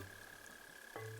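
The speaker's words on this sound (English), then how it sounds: "Another mole cricket." A mole cricket chirps underground in Animal Crossing New Horizons, a faint, steady buzzing trill with a low hum that briefly shifts near the end, heard alone.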